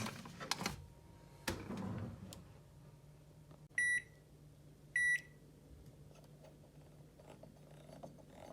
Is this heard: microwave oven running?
yes